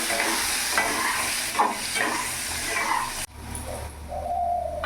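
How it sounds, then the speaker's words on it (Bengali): Potatoes fry in a pan with salt and turmeric, sizzling loudly while a spoon stirs them. The sizzle drops abruptly, and a bird cooing is heard faintly behind it. "আলুটাও আমি ভেজে নেবো"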